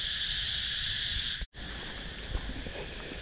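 Cicadas drone in a Thai jungle as a steady, high buzzing wash that cuts out for a moment and then resumes, with faint rustling beneath it and no voices.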